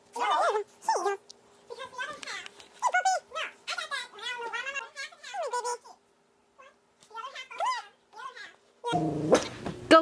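A puppy whimpers in thin, high whines and gives a few short barks indoors. The sounds are scattered among people talking nearby, ending with a louder burst of noise.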